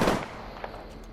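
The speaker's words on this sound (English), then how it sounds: "Opening fire on the enemy." Gunfire in a video game firefight: one loud close blast opens the burst and trails into a rumbling decay, with fainter shots after it and no talking.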